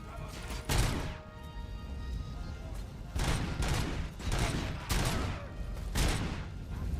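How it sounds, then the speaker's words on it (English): Pistol shots in a video game ring out as a handful of separate sharp cracks spaced a second or so apart over a steady game background. "Let's do it with the pistol, actually."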